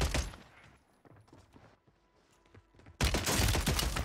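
Nail gun fired in the video game Warzone 3, with scattered shots and game effects early on, then a loud, dense burst of rapid gunfire from the three-second mark to the end.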